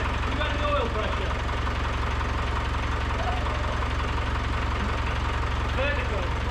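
A freshly swapped Land Rover 200Tdi diesel engine in a Discovery idles with a steady low drone and faint knocking, while people talk nearby.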